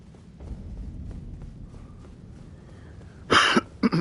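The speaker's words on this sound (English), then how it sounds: "I don't mean to clear my throat over a microphone" A man clears his throat close to a microphone in two short, sharp bursts near the end, over low background noise while playing Elden Ring.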